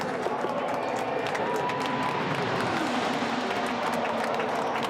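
A large grandstand crowd at the Indy 500 qualifying roars and applauds a rookie, a dense, constant wall of cheering and clapping with a commentator talking over it.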